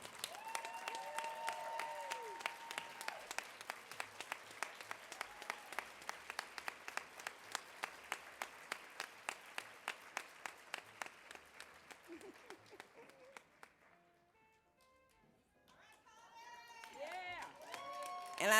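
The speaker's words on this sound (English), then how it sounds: "Can everybody stand and give her applause?" An audience stands and applauds an award winner honored as the coast's most influential woman, the claps falling into a fast, even rhythmic beat for about twelve seconds before fading, with a voice speaking near the end.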